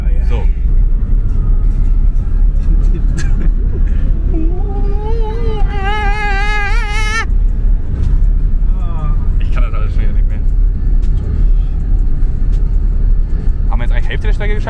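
A Trabant 601 drives along a road over a hill toward a bridge, its engine a steady loud rumble throughout, with people talking over it and a rising whining tone partway through.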